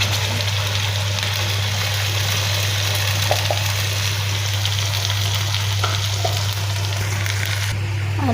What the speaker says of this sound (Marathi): मसाला लाल होतो ग्रेव्ही करून मसाला लाल होतो भुजायचा आहे